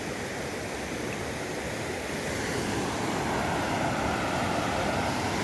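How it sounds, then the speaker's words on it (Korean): Flowing water in Sumatra, heard from a suspension bridge: a steady, broad rushing roar like a river or rapids, continuous and fairly loud, with slight wind noise and no talking. "자, 물소리 한번 들어보십시오."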